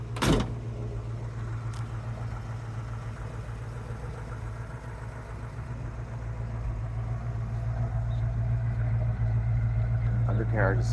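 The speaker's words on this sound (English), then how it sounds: "Windows roll down real nice." Power windows lowering on a 1967 Ford Mustang GTA tribute with a 289 engine give a faint motor whir over a steady low idle hum, which grows slightly louder toward the end.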